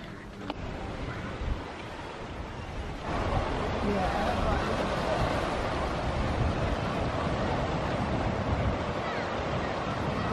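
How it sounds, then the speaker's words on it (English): Gentle ocean waves wash onto a beach at St Ives, Cornwall, a steady broadband surf mixed with wind buffeting the microphone, growing louder after the first few seconds. "Gentle waves, nothing like those violent ones we see in the winter with them crashing in like thunder against this beach"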